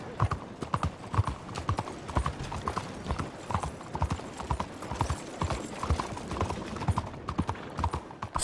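Steady clip-clop of a horse's hooves riding through a town in the video game Red Dead Redemption 2, a continuous close rhythm over faint background ambience.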